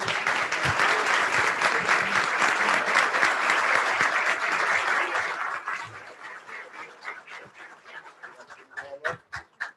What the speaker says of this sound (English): they all deserve another round of applause